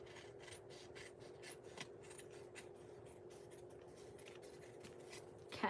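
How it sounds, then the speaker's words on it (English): Scissors rasp through a paper edge in a long run of quick, regular snips and rubs, close and quiet, ending with a louder rustle. "I'm gonna cut this edge"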